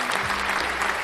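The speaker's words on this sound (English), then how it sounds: "I like that clap goes on for too long." Canned applause sound effect played during a live forex trading stream, a short, continuous burst of crowd clapping at moderate volume with no break.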